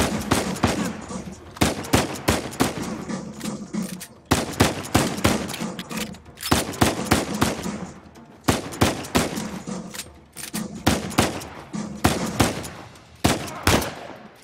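Bursts of loud, close gunfire during a sniper fight in Uncharted 4, coming in repeated rapid volleys separated by short pauses across the whole stretch.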